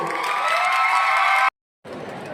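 Crowd at a Thai music event cheering and clapping loudly and steadily, then a brief cut to silence before the cheering resumes more faintly.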